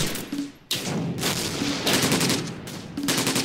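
Artillery shells and small-arms gunfire in Close Combat: Gateway to Caen crack out as a rapid fusillade of loud, overlapping shots in several bursts, with a short lull between them and no voices.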